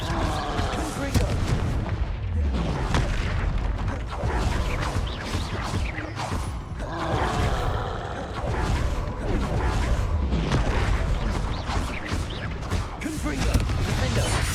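Fire spells blast repeatedly in Hogwarts Legacy combat, loud booming explosions one after another over constant battle noise, with a voice shouting spell names.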